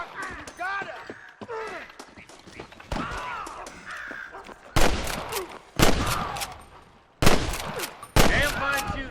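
Gunfire in Red Dead Redemption: scattered distant shots early on, then four loud close gunshots at roughly one-second intervals, with crow-like caws and muffled voices in the background.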